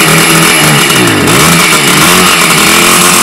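A Romet Ogar moped with a newly fitted ALMOT cylinder runs loudly up close, its two-stroke engine revving and holding a buzzing drone, with a brief pitch sag as the throttle dips before it steadies again.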